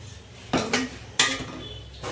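Mung beans being served into small bowls in a home kitchen, giving two or three sharp clinks of dishes and spoons close by, with quieter handling between.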